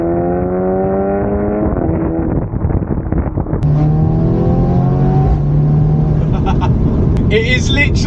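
Audi S3 8V sedan with EA888 engine and Stone Valvetronic catback exhaust revving, loud and close, engine pitch climbing and falling through several rises, with a sharper crackle near the end.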